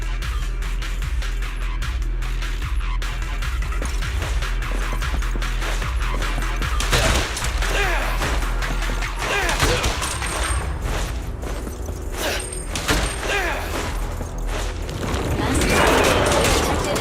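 Rapid bursts of gunfire and mechanical clatter from combat in the video game Zenless Zone Zero, dense and continuous over a busy mix of game effects and music, loud and close throughout.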